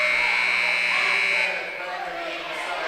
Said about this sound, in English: That buzzer just keeps going off every single time that we have a stop in the action